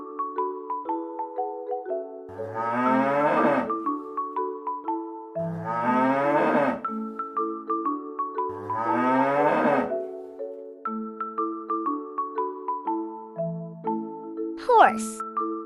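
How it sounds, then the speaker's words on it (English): A cartoon cow moos three times in long, drawn-out lows, evenly spaced over a light, bouncy children's tune with chime notes. "Cow,"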